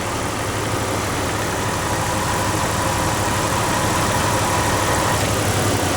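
A 1997 Jeep engine idles steadily with the air-conditioning clutch engaged, a constant broadband rumble and hum, loud and close, with no voices.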